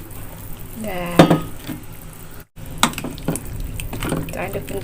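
Squash simmering in coconut milk is stirred in a pot, with scattered utensil clinks and scrapes over a soft bubbling sizzle, while a person talks in between.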